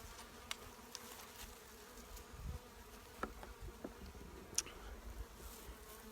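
Small late-season swarm of bees, a soft steady buzzing hum close by with faint handling knocks and clicks now and then, quiet overall.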